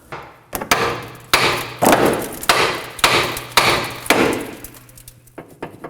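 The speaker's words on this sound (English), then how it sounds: "we're gonna go ahead and hit this with a hammer to pop it off" A hammer strikes a steering linkage on a 2016-2020 Kia Sorento about eight times in an uneven rhythm to pop it loose, each blow a sharp, close clang with a short ringing decay.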